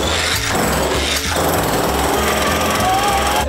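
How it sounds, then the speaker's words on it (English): A jackhammer pounds loudly and close against layers of steel, its rapid hammering running continuously with brief rhythmic pauses and shifts in pitch. "This is a jackhammer."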